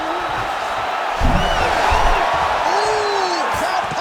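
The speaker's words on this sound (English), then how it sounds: "crowd pops as he gets out again" A video game arena crowd in UFC 5 cheering during a fight, a steady roar of many voices that swells midway, with commentary talking over it.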